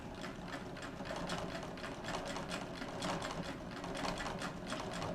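Close, steady rhythmic clatter of a home treadle sewing machine stitching a seam on a wool blanket coat, the mechanism ticking fast and evenly with no voices.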